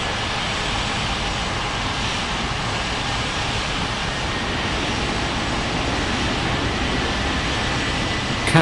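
Steady airliner engine roar during takeoff in an air traffic control game at Capeville City International, a continuous, even broadband rush that holds at constant loudness throughout with no voices.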